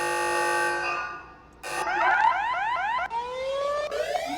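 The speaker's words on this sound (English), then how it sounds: "the klaxon horn has got a heap of new sirens and sounds in it" A klaxon horn cycling through electronic siren tones, a steady harmonic wail giving way to a rapid rising-and-falling yelp, loud and close with no talking.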